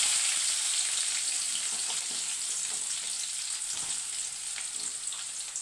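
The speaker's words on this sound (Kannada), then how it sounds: "ಎಣ್ಣೆ ಕರಿದೆ ಫ್ರೆಂಡ್ಸ್, ಈರುಳ್ಳಿ ಹಾಕ್ತಾಯಿದ್ದೀನಿ ನೋಡಿ" Onions frying in hot oil for homemade egg rice, a steady close hiss of sizzling with light scattered crackles, gradually easing slightly, no voices.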